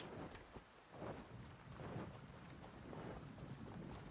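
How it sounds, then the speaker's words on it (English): Steady heavy downpour in the Genshin Impact world, dense rain hiss with low rumbling thunder swelling in waves throughout, wind buffeting underneath, no voices. "Taking a stroll in the middle of a downpour certainly rouses the spirit"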